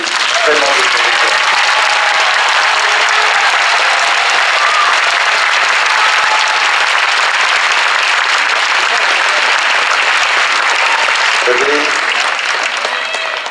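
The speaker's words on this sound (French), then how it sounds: "je voudrais que vous les applaudissiez toutes, mais vraiment de tout cœur." Sustained, dense audience applause fills a hall for the contestants at a beauty pageant crowning, steady and loud throughout, with a voice briefly audible beneath it near the start and again toward the end.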